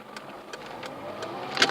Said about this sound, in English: That's another influx of traffic,